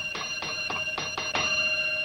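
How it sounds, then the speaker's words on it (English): An old telephone bell rings in rapid repeated bursts, about six bright metallic trills close by, then a steady ringing tone carries on at the end. "Listen to that ding-a-ling ringing that bell."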